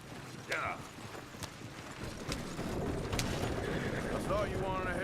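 A horse whinnies and hooves clop on the ground in the Red Dead Redemption 2 western game world, the neigh rising early then trailing off under steady ambient noise, with a voice speaking briefly.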